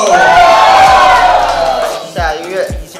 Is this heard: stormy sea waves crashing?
no